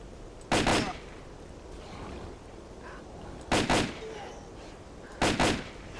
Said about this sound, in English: Recoil is a big thing for this gun.